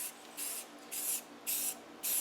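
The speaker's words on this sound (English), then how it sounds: "So I've got a silver metallic spray paint." Silver metallic spray paint sprays onto a corroded aluminum car wheel in four short hissing bursts with brief pauses between them, close and fairly quiet.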